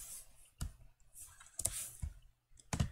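Keys clicked on a computer keyboard while entering a value in FreeCAD CAD software, heard as three or four sharp separated taps with short gaps, close and fairly quiet, with no talking.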